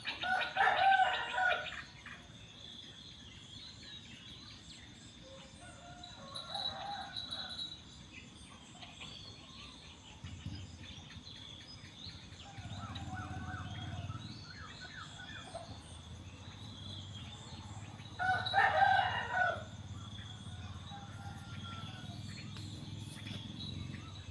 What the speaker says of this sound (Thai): บรรยากาศยามเช้านะคะ เสียงไก่ เสียงนก